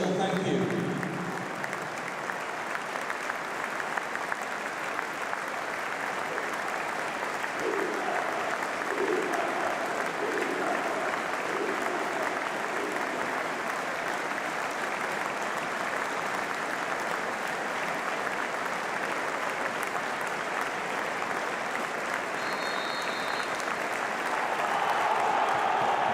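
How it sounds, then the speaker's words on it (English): Sustained stadium applause from a large football crowd at a Swansea City versus Sunderland Championship match, a steady dense roar of clapping for a full minute of tribute, with a brief whistle near the start. "will now pause for a minute of applause"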